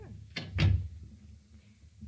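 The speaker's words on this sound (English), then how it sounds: "Close the door and stand still." A door is shut in a 1950 CBS radio noir crime drama: two quick, close wooden thuds in succession, then a low room hum with no talking.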